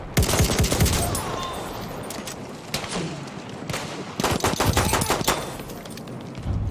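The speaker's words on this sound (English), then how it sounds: "Enemy machine gun sighted!" Rapid bursts of machine gun fire from the video game Battlefield 1 crackle in clusters, several sharp volleys separated by short pauses, loud and close, with no talking.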